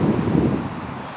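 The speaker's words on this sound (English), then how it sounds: "The wind has kicked up 30 to 50 mile an hour gusts." Strong wind gusts of 30 to 50 mph buffet a hunting stand, a dense rushing roar hitting the microphone briefly, loud and close, with no voices.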